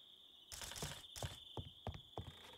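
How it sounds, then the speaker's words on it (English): Night crickets in a video game give a steady, thin chirring drone that runs throughout, while soft footstep-like thuds land in a loose rhythm over it. "Nighttime, my first reaction when hearing the crickets was to go sleep"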